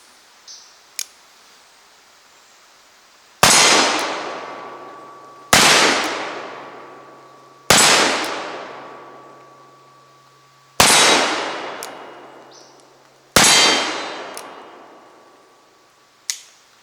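Cimarron Richards 1860 Army Conversion revolver fired at a steel target: five loud, sharp shots spaced a couple of seconds apart, each followed by a ringing metallic clang that decays slowly, with a few faint clicks between.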